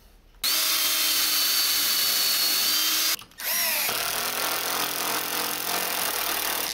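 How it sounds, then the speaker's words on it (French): A power drill drives screws into wood for a wall-mounted bike rack, two sustained whirring runs near and loud, separated by a brief pause, the second one lower and labouring as the screw bites. "le fait de visser comme ça mes vis"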